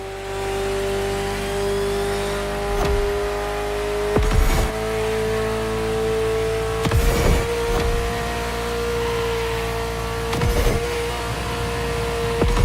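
A Ferrari F40 supercar engine in The Crew Motorfest holds a steady, droning tone at cruising speed, with a few brief louder bursts as it shifts or revs. No voices are heard.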